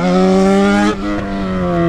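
The engine of a Yamaha XJ6 motorcycle being ridden in wheelie practice holds a loud, steady high-rev drone, dips briefly as the throttle shifts, then climbs again. The engine is close and dominant, with no talk over it.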